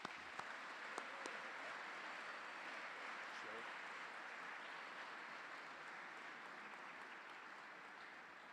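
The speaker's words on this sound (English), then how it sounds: "Please give them a round of applause." Sustained audience applause at a Class of 2022 academic awards ceremony, a dense, even wash of many hands clapping that holds steady for over eight seconds, heard from some distance in a large room.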